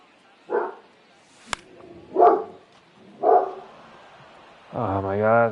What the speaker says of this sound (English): Oh my god, my dog's gonna bark all night because these trick-or-treaters.